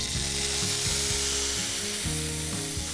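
Tomatoes hit hot oil already popping with mustard seeds, producing a constant loud sizzle and frying hiss under faint tonal kitchen hum, close and continuous.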